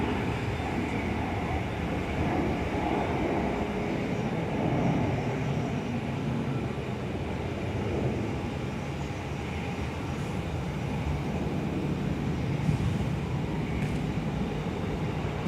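A Virgin Australia Boeing 737-800 airliner, operating as Velocity flight, roars steadily at Perth airport, a continuous broad engine rumble holding at a fairly constant loudness throughout, with no voices.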